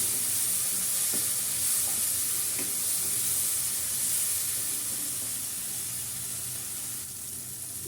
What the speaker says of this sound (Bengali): মশলাগুলো ভালো করে কষিয়ে নিতে হবে